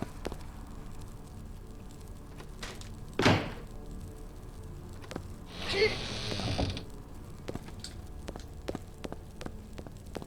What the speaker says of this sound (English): And then this door needs to be opened with the crowbar.